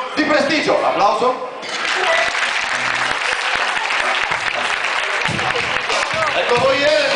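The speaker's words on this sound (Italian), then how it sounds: "Applauso." Audience applause at a magic show, a dense, steady burst of clapping from a crowd that carries on without a break, with some voices mixed in near the start.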